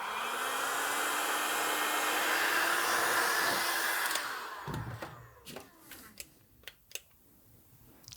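A heat gun blows a loud, steady roar onto a BMW R80 motorcycle wheel bearing housing for about four seconds, then shuts off, leaving quieter clicks and taps of handling metal parts.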